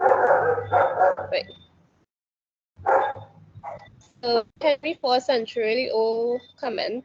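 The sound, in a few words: dogs barking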